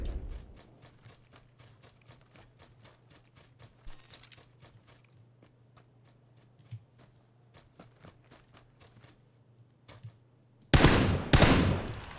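Suppressed Vector gunfire in PUBG, a long run of quick muffled shots ticking at a steady clip under a low hum, ending in a loud close burst near the end.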